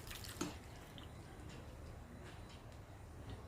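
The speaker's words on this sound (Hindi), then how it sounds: "अब हम इसे एक बाउल में स्ट्रेनर की मदद से हम इसे छान लेंगे।" Soaked sabudana drained through a strainer into a bowl: faint trickling and dripping water with a small clink at the start, quiet and steady, no talk.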